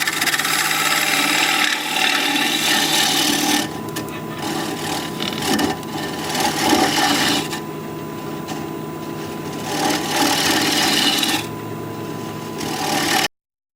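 A Russian olive live edge bowl spinning on a wood lathe, the gouge cutting in long continuous scraping passes with brief pauses between cuts, steady and close with no talk.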